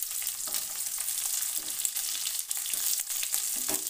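Thick-cut onions with green chilli frying in very hot oil, a steady bright crackling sizzle with faint stirring scrapes, close and continuous.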